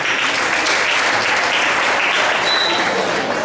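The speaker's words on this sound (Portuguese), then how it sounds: "Uma salva de palmas para os dois ali" A church audience gives a round of applause for two people, a dense, even roar of clapping that holds steady throughout without pause.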